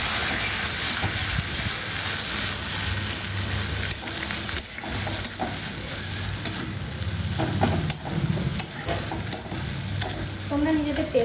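Egg frying with tomato ketchup in a pan for a dhaba-style egg tadka, stirred steadily: a continuous close sizzle broken by repeated sharp scrapes and clacks of the utensil against the pan.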